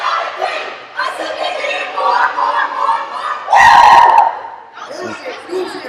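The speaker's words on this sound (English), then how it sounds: "Mount Hope going through their pregame cheer here" A girls' high school swim team from Mount Hope chants its pregame cheer at a quarterfinal meet, loud rhythmic group shouting rising to a sustained yell, then trailing into scattered voices.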